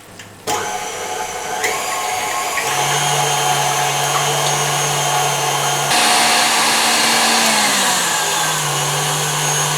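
An electric mixer whips egg whites for a pear yule log, a loud steady motor whine running without a break, its pitch rising and settling as the speed changes.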